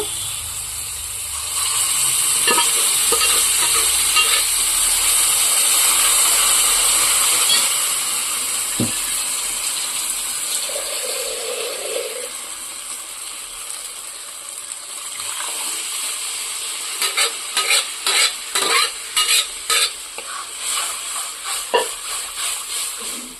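Dal poured into a pan of frying cauliflower, giving a steady loud sizzle and hiss with rhythmic scraping and clattering of stirring, busier toward the end.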